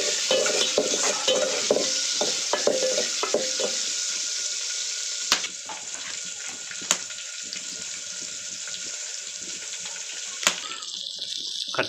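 Onions and green chillies frying in oil with tempering spices, a steady loud sizzle with occasional sharp clinks of a spoon stirring the pan, and a faint trickle of water in places.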